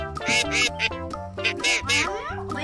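Repeated nasal quacking calls from a duckling in quick succession, loud and close, with a brief voice murmur in the background.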